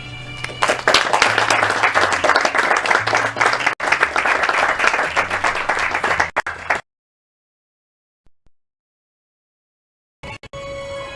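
Sustained, loud audience applause in a hall at a school graduation certificate ceremony, dense continuous clapping for several seconds that cuts off abruptly into silence, then briefly resumes at the end.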